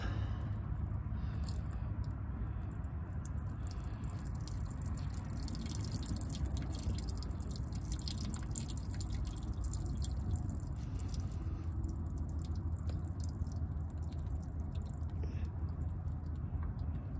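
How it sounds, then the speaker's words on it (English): Thick old gear oil drips and oozes out of an old Koehring 205 machine, giving soft, wet, irregular drip and squish sounds over a steady outdoor background, with no talk. "a little oil starting to come out now"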